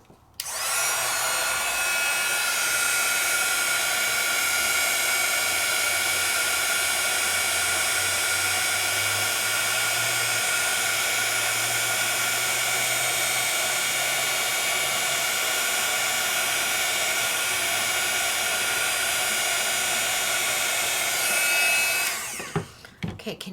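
A handheld heat tool melting embossing powder blows with a steady, loud, close whirring roar for about twenty seconds, then clicks off.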